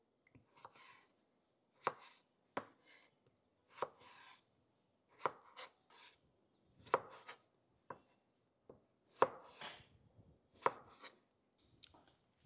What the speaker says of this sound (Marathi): आता आपण ग्रेव्हीसाठी टमाटर कट करून घेऊ।